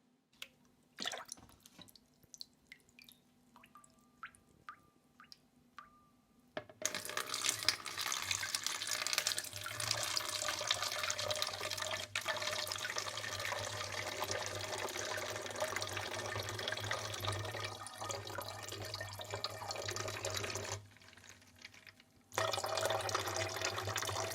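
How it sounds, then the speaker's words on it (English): Elderflower champagne pours into a bottle outdoors as a steady, close splashing gush of liquid, preceded by a few quiet drips and clinks and ending in a short pause before the flow resumes. "So fill it up, but leave a little bit of room at the top"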